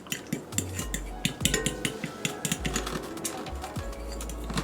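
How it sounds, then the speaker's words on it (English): A fork beats French toast batter in a bowl, a quick irregular run of light metallic clicks and taps against the sides, close and fairly loud, with occasional dull knocks underneath. "Take this fork, give it a nice little mixture like that."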